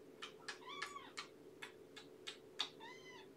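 A house cat meows repeatedly at close range in a home, giving about ten short meows in an uneven rhythm, some with a drawn-out trill, over a steady low hum.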